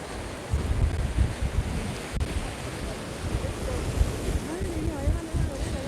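Wind gusts buffet and rush at a seaside promenade at sunset in Palma de Mallorca, Spain, a steady blustery roar with surf underneath and faint voices in the background.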